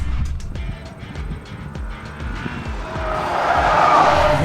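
Car tires cornering hard on a race track, a sustained squeal and rushing roar with the engine pulsing underneath, growing louder toward the end.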